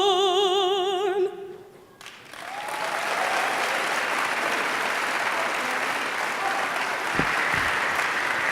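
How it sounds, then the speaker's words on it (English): Town hall audience bursts into applause after a sung opening with a vibrato-rich voice; the singing ends, a brief lull follows, then a full, steady crowd applause rises and holds to the end. "Please give a warm round of applause for the Howard University Bison Battalion and Maya Rose Payton"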